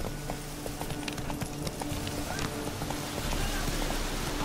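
Roach, Geralt's horse in The Witcher 3 video game, gallops with a steady run of hoofbeats over a dense, continuous backdrop of rain-like ambience and low game noise, with faint voices now and then.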